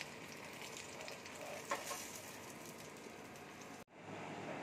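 Eggplant frying in a pan over a medium to low flame: a continuous soft sizzle with a faint clink partway, then a sudden drop to a quieter hiss.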